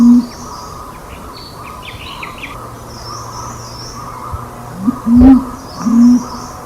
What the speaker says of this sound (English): Listen to this scream and the cooing of a pigeon.